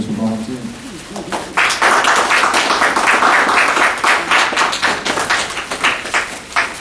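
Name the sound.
audience round of applause for volunteers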